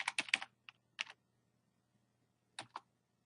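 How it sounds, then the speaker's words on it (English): Quiet clicks of keys on a computer keyboard, a quick cluster of keystrokes followed by a few isolated taps with pauses between, no talk. "let's type in plus y"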